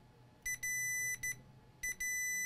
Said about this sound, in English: And we have a beep between here to here.